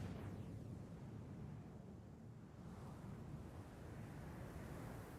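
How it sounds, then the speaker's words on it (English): Wind blowing outdoors, a steady, even roar of rushing air that holds at a constant low level for the whole stretch, with no voices over it. "Obviously, it's pretty windy here."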